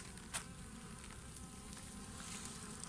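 A faint, steady honeybee buzz hums beneath low background noise near pesticide-poisoned bees, with a brief louder buzz as something passes close by.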